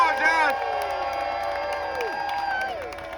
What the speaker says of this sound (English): let's give the next governor of the state of Pennsylvania, Josh Shapiro, a West Philadelphia round of applause